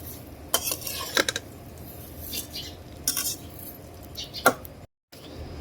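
Vermicelli (semai) frying and being stirred in a pan, a soft dry crackle under repeated metallic clinks and scrapes of a spoon against the pan, close, with a brief gap near the end.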